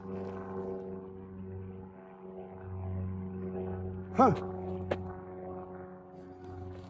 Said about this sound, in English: Another plane going over.